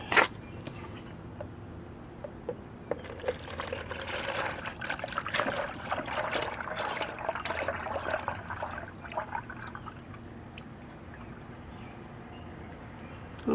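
Automatic transmission fluid from a Nissan Frontier pours in a steady trickling stream into a measuring container, growing louder and splashier midway before tapering off, with no talking.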